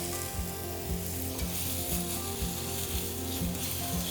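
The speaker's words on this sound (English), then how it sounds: "And you wanna hear that sizzle?" Mushrooms and shallots sizzle steadily in hot oil in a pan, a close, continuous crackling fry with faint clicks of stirring and no talking.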